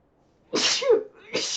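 Two sharp sneezes in quick succession, close and fairly loud against a quiet room, the first a full burst with a catch of breath and the second shorter.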